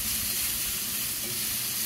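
Steady loud sizzle of hamburger steak frying in oil in a pan, with a continuous bright hiss and soft scraping as it is stirred, and no talk.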